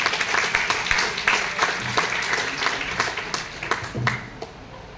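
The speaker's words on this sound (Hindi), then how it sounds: "तो जोरदार तालियां हो जाए" Loud applause from a largely female audience at a Hindi-language talk, a sustained wash of many clapping hands that gradually tapers toward the end.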